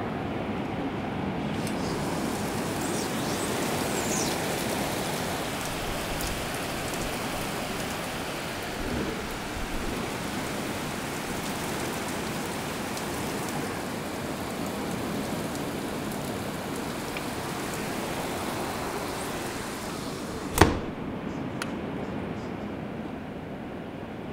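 Steady rain falls in a continuous, even hiss, with one sharp crack standing out near the end.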